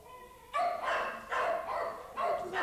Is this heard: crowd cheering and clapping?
no